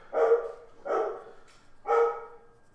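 A dog barks three times in a loud, evenly spaced series of sharp, close barks, with no talking over them.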